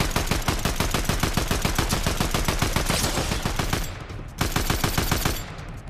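Rapid automatic gunfire from a weapon in Fortnite, loud and close, firing in a steady rhythmic burst with a brief pause before resuming, no voices over it.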